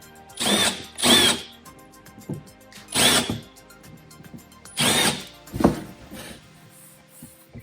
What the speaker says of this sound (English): To smooth these out, you can just zip them with a slightly bigger drill bit.